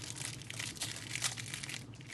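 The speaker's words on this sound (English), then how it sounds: "I can remove enough of the plastic bag" Plastic bag crinkling as it is pulled off a military-style AMOLED smartwatch during unboxing, a steady close rustle of soft crackles with no talk.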